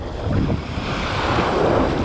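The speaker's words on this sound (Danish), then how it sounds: "Lidt store bølger, sådan der står herinde på, og man kan ikke rigtig komme ud i det." Large waves break along a sea shore under strong wind in mid-November, a loud, constant roar of surf mixed with buffeting wind noise on the microphone and no voices.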